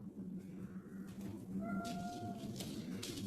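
A pet cat meows twice indoors, a short call followed by a longer drawn-out meow, fairly clear over a low background hum.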